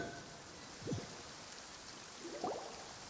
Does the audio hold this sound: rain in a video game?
yes